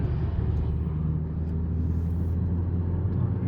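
Volkswagen Passat B5 with a 1.6 MPI petrol engine running steadily, a low continuous rumble with no clear rise in revs, heard up close and alone.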